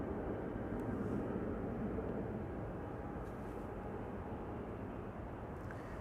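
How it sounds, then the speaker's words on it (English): A KLM airliner taxis at Schiphol airport, its engines giving a steady, broad low rumble from some distance that holds evenly throughout with no speech. "It does look like KLM flight 615 to Portland has started moving"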